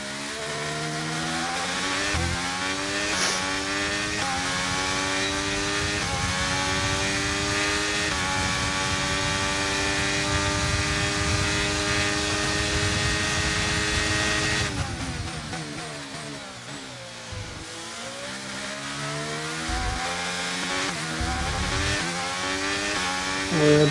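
A Formula 1 car engine in F1 23 screams steadily through a lap with rising and falling harmonic pitch, revving down sharply at one point before climbing again. The engine is loud and continuous, and no one speaks.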